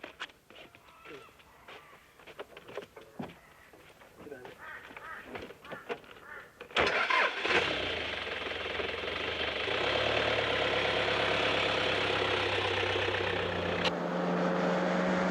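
An off-road vehicle in the Australian outback desert in 1991 starts with a sudden loud burst after scattered voices and honk-like noises, then settles into a steady, close engine roar that runs on to the end.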